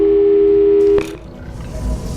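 In the video game Portal 2, a steady, loud telephone dial tone holds for about a second, then cuts off with a short click and a burst of dialing, and a faint low hum remains.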